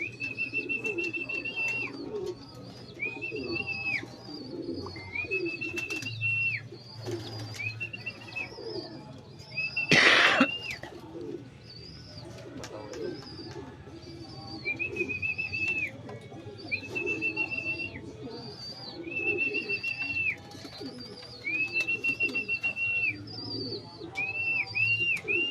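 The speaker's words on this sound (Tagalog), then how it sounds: "Ayun, nandiyan na isang ibon" Racing pigeons coo repeatedly in low, soft rounded calls, with higher whistling notes recurring at a regular pace and one brief loud rustle midway, at a pigeon race finish in Rosario, La Union.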